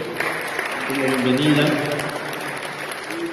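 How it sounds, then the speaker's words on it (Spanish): Applause rises to welcome an auxiliary bishop of the Archdiocese of Mexico at a Holy Week gathering, a moderate, steady clapping under a voice speaking Spanish over it. "Un aplauso para él."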